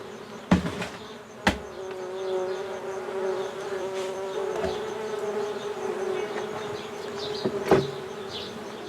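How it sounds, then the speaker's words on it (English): Honey bees buzz steadily around a dozen-plus beehives kept by a beekeeper in northern Iran, a continuous insect drone with a few sharp knocks and taps standing out. "The smoke calms the bees,"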